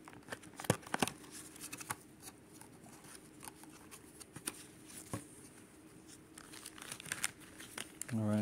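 A plastic toy package from a G.I. Joe figure set is opened, making soft intermittent crinkles, rustles and small clicks up close, fairly quiet overall, with a brief louder handling noise at the end.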